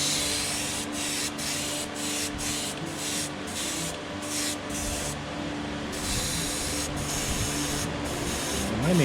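An airbrush driven by an air compressor sprays light base color onto a wood-carved rainbow trout, a steady close hiss broken by short pauses as the trigger is released, with no talking.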